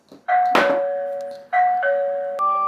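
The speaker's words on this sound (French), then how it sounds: "si vous appuyez sur la sonnette," An EZVIZ connected video doorbell chimes loudly up close, two clear electronic ding-dong tones with a sustained ring after each press and a brief click at the start.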